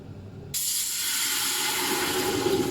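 A sudden loud hiss of steam bursts out and keeps going steadily, a broad rushing sound like a pot venting vigorously.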